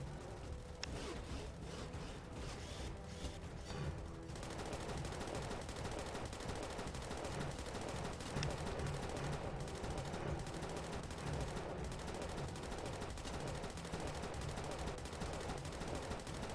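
Gunner units in the video game Mortals and Monsters fire bursts of rapid, crackling gunfire. The shots are dense and continuous but faint and low in the mix, with no talk over them.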